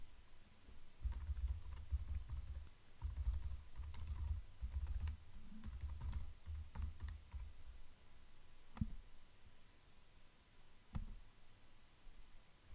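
An email address and password are typed on a computer keyboard in bursts of quick, close key clicks with short pauses, tapering to a few isolated taps near the end, with no speech.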